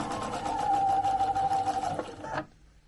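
Sewing machine stitching a quilt: a close, steady, fast mechanical whir of the needle running for about two and a half seconds, then stopping abruptly, with no talking.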